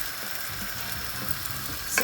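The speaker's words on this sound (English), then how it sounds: "So we're going to fry them for about a minute." Food frying on medium heat in an oiled frying pan gives off a steady, close crackling sizzle, with a brief clink near the end and no talking.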